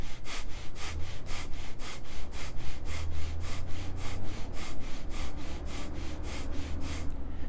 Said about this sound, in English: And once again, breath of fire.